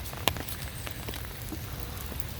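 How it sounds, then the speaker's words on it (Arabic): Steady rain falls outdoors on an autumn day with wintry weather, a constant hiss with scattered patters of drops and one sharper drip near the start. "اليوم ما شاء الله الدنيا تمطر عندنا"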